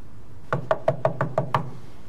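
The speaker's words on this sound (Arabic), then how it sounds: "دق الباب." Six sharp knocks on a door in a steady, evenly spaced rhythm, close and clear, with no voices around them.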